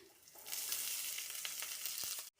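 Chopped onion dropped into hot oil with mustard seeds, bursting into a sudden bright sizzle that holds steady for about two seconds before cutting off abruptly.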